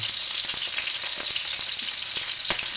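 Onion sautéing in oil in a pan for pork and winged bean stir-fry, giving a dense, steady close sizzle with light crackles and occasional stirring clicks, no voices.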